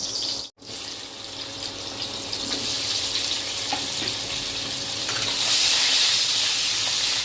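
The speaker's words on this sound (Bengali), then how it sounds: "এই তেলটার মধ্যে আমি আলুটা ভেজে নেব" Potatoes fry in mustard oil left from frying pointed gourd, giving a steady, close crackling hiss that swells slightly toward the end after a brief dropout near the start.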